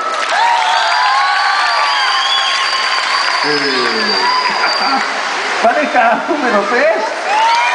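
A mall crowd at a couples contest gives loud, continuous clapping and cheering, with a voice speaking over it toward the end.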